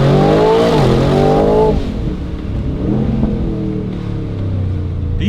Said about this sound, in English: It's a V8. Even with all of the regulations, you're still going to hear that V8.